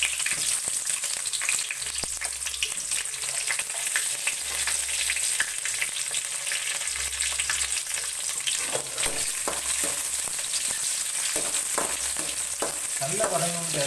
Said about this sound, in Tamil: பட்டை மிளகாய் வதங்கினோன்னே அதை இந்த வெங்காயத்தை சேர்த்துக்கலாம்.